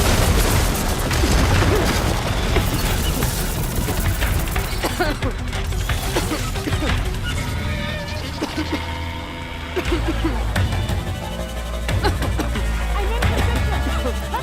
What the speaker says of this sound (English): fire a few shots from that ballista